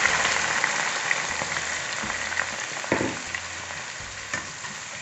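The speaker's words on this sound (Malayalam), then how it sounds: "ഈ ഓയിലിലിട്ട് ഇതൊന്ന് ലൈറ്റായിട്ട് ഫ്രൈ ചെയ്തെടുക്കാം." Masala-marinated chicken pieces fry in oil and ghee for Mughlai chicken, a steady, dense sizzle and crackle close by with occasional soft stirring bumps and scrapes through the pan.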